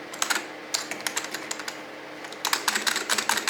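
Rapid typing on a KBParadise V60 keyboard with Matias silent linear Alps switches, stems clacking against housings in close, uneven bursts, with a brief pause midway before the clacking resumes.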